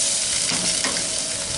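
Loud, steady sizzling of chicken cooking on a hot Masterbuilt 560 gravity-fed grill, with a constant crackling hiss and no voices.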